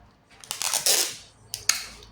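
Durex adhesive tape is pulled from the roll with a rasping rip, then torn and pressed onto a paper label on a cookie lunchbox, close and fairly loud, with no talking.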